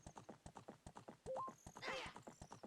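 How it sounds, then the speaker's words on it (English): Horse hooves clip-clopping in a steady fast rhythm in Ocarina of Time, broken midway by a sharp, shrill whinny before the galloping beat carries on. "That horse sounds like it's being abused."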